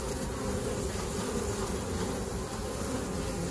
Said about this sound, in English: that's what's going on with the bees